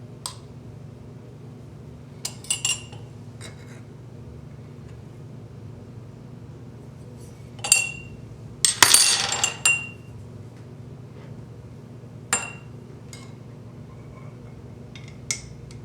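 A spoon clinks against ceramic cups of decaf coffee while a row of cupping bowls is stirred, giving scattered bright taps and a cluster of quick scraping clinks midway, set against a quiet low hum.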